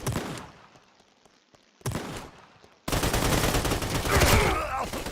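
Bursts of rapid gunfire against bots in a Roblox shooter, sparse at first, then a loud sustained volley of automatic fire with explosions blending in near the end.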